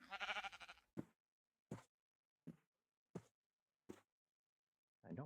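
Minecraft sheep bleating: one long wavering bleat at the start, then five short separate bleats spaced about a second apart, and another bleat beginning at the end, all clear against silence.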